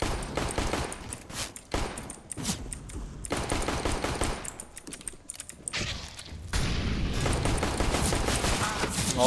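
Rapid automatic gunfire in Counter-Strike: Global Offensive rattles in dense bursts, loud and close, with a steadier stretch of continuous shooting toward the end.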